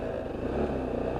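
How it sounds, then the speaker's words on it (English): A Lexmoto LXS Euro 5 motorcycle with a rear exhaust runs steadily, a low continuous engine drone holding an even level throughout the short stretch, with no talk over it. "And just listening to that engine"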